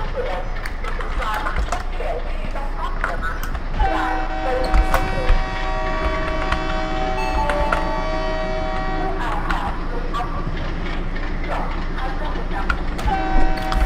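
A WDM3A diesel locomotive in the Open Rails train simulator sounds its horn during shunting at Vadodara Junction. One long, steady blast rings out over a constant rumbling engine and rail noise, with a shorter toot following later.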